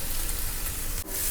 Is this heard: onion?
yes